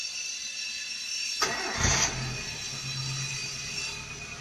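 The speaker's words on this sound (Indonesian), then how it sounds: "Coba nanti kita hidupkan mesin, apakah dia nyala." A car engine cranks and catches with a short burst, then settles into a steady idle hum close by, in a car whose battery keeps running flat even after replacement.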